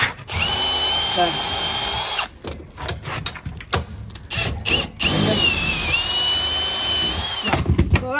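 Power drill driving bolts into the timber roof frame of a large garden room, two long whirring runs of several seconds each separated by clunks and handling noise, close and loud with brief talk between bursts.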